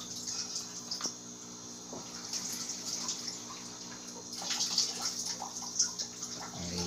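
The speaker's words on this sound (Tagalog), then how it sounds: "So, since na marami yung ating veggies, magdagdag ulit tayo ng tubig." Water poured into a pot of pork stew full of vegetables, a continuous splashing trickle with a few sharper splashes and gurgles toward the end, close by and with no talk.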